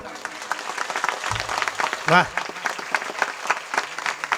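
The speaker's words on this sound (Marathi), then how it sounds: "माझ्या वाजणाऱ्या दादासाठी आणि माझ्या दोघही महाराजांसाठी दणकून टाळी वाजा" Audience at a Marathi kirtan clapping hands together in a dense, steady round of applause, close and loud, with a voice speaking over it.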